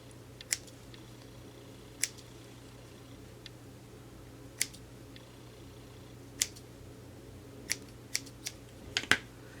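Sharp scissor snips cutting through crochet yarn loops for feather earrings, about ten quick isolated clicks spaced unevenly over a low steady room hum, close and fairly quiet.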